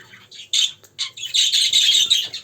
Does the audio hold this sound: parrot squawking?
yes